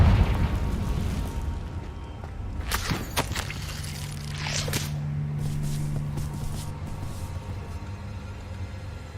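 A Confringo spell explodes in the Hogwarts Legacy video game: two sharp, crackling bursts a couple of seconds apart, heard over a steady low game rumble and a sustained drone.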